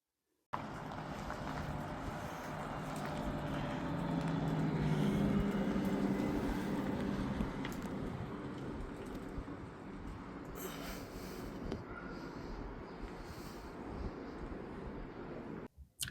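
A VW Multivan wheelchair accessible vehicle drives along, giving a steady cabin rumble of road and wind noise that rises and falls gently, with no voices.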